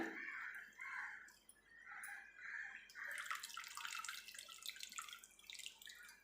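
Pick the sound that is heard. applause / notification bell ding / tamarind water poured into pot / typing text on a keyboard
tamarind water poured into pot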